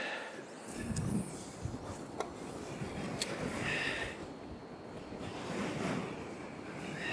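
Strong wind sweeps across the river during a fishing competition, steady blowing and water wash with the low hum of a boat motor, faint and continuous, with scattered knocks and a voice.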